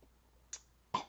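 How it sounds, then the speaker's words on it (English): A person clears their throat in a few short, rough bursts, close to the microphone, against a quiet background. "I have to clear my throat for this."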